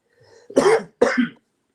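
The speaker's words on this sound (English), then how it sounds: "I'm not going to stop coughing" Two sharp, close coughs in quick succession, each a short harsh burst, with quiet before and after.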